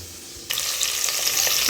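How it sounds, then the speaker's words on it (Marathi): Chopped onion hitting hot oil in a pan and starting to sauté, a sudden loud sizzle that bursts in and continues as a steady, close frying hiss with no talking. "आधी कांदा चांगला परतून घेते गुलाबी होईपर्यंत कांदा परतून घेते"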